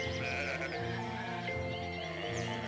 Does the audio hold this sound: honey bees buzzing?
no